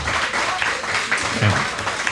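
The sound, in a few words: audience applause at a live podcast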